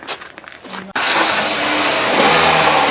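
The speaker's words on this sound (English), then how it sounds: "see if she starts up after everything that Eddie's done" An Elantra's engine catches after a short crank and settles into a loud, steady roar right up close, with a faint earlier rumble before it fires.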